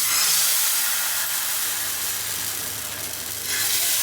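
A dosa sizzles on a hot pan with a little oil, a close, steady hiss of frying that swells and dips slightly, with no voices over it.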